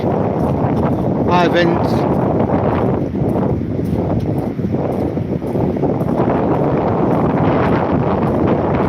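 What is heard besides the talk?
wind blowing along the seaside promenade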